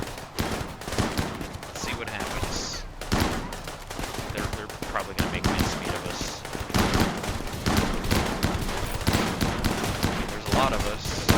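Shotgun blasts from junker pirates during a settlement raid in the video game RimWorld, repeated sharp bursts and volleys scattered through the stretch, with someone talking over the gunfire.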